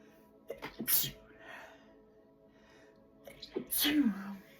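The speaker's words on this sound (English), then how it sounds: "After I get choked, I always sneeze." Two sneezes, the second a bit louder, each with a short sharp burst after a quick intake of breath, close up with a quiet pause between.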